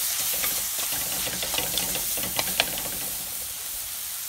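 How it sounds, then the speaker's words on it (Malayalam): Spice powders sautéing in a pan for Kerala-style prawn curry, giving a steady close sizzle with scraping stirring strokes and a few sharper clicks of the spoon against the pan, no voices. "ഇതെല്ലാം ചേർത്ത് ഒന്നുകൂടെ വഴറ്റണം."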